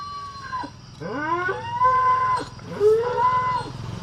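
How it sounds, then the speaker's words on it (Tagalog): A dog howls in long, wavering rising and falling tones, three drawn-out howls one after another, fairly close and clear, with no talking over them. "Bakit nakaganyan ng aso baka nangangagat yan"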